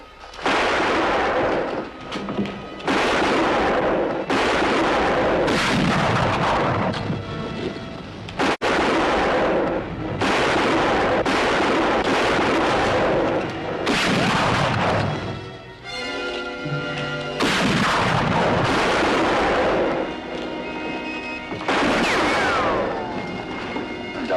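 Repeated loud gunshots fired through a window in a 1959 Western drama set on the plains, sharp cracks and blasts recurring every second or two with echoing tails, some sounding like ricochets, and no talking.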